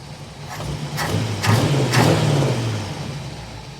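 Car engine at idle after a blip, the revs audibly falling and settling back down, close and fairly loud, with no talk over it.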